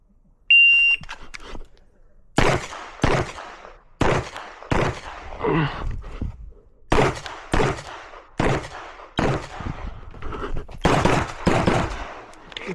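Sharp, loud gunshots crack out at an IPSC shooting competition stage, a dozen or so close reports in quick irregular bursts. A brief beep comes before the first shot, and faint sounds carry between the shots.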